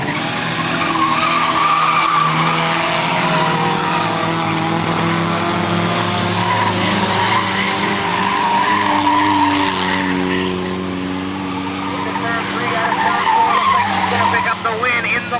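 Race cars roar around a track on the final lap, the engines a loud, continuous, droning blend with rising and falling pitch, while an announcer calls the race over the top.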